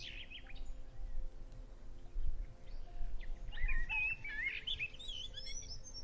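Forest birds, chaffinches among them, chirp and trill in short bursts at moderate distance over a low steady hum, with no voices.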